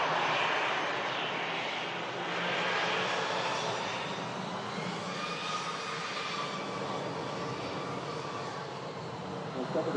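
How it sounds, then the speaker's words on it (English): EasyJet airliner on short final approach into Manchester Airport during a storm, a steady broadband jet roar with a faint whine, moderately distant, and a voice talking over it. "EasyJet just on a short final now."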